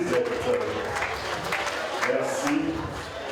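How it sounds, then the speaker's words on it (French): Audience applause at an African women's day celebration in Montreal: a dense, steady clapping crowd throughout, moderately loud, with voices mixed in. "Des applaudissements s'il vous plaît pour Lisette."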